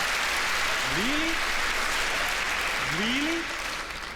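A stand-up comedy audience gives sustained applause after a joke, and someone speaks briefly twice over the steady clapping.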